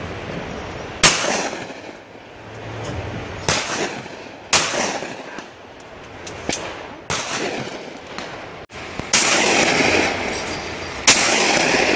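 Shotgun blasts at sporting clays targets ring out as about eight sharp, loud reports spaced a second or two apart, each followed by a short echoing decay.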